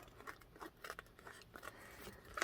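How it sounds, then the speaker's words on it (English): Scissors fussy cutting paper for a handmade envelope journal, a quiet, steady series of short snipping crunches at close range, with no voices. "There we go. Fussy cutting."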